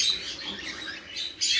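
Bird chicks and a parent in a freshly opened nest at a breeding aviary, giving high, thin chirps in a continuous close twittering, with a sharper burst at the end.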